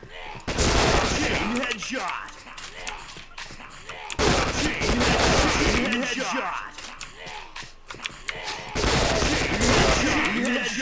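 Guns fire at zombies in the Point Blank zombie mode, in long dense bursts of rapid shots broken by brief pauses, loud and close throughout, with no one talking.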